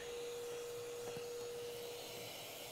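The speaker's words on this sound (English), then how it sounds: "And then go back over it with the vacuum again." A vacuum cleaner runs steadily and loudly while suctioning dust from refrigerator coils, giving a constant whine with a steady tone and faint rubbing as the nozzle moves, and no one speaks.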